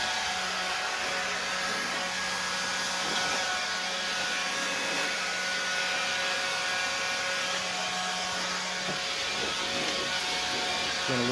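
A Black & Decker 20 MAX cordless sweeper runs continuously near the listener, blowing debris off a porch with a steady, loud whirring drone and no pauses.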